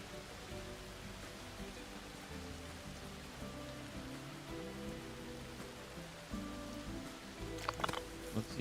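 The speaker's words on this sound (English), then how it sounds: "Hey, it's raining." Rain falls in the video game Planet Coaster 2, a faint, soft patter over a low background hum, with a few sharper drops and clicks near the end.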